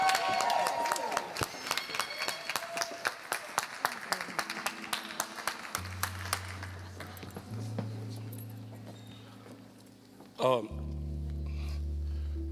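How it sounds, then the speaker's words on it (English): An audience welcomes a performer onto a stage, with rhythmic clapping that is loud at first and then thins out. Sustained low musical tones come in underneath and take over toward the end. "welcome to the stage with a thunderous round of applause"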